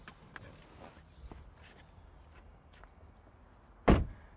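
A 2020 BMW M235i Gran Coupe door shuts with a single solid thud near the end, after a few seconds of quiet shuffling and faint movement by someone getting out of the car.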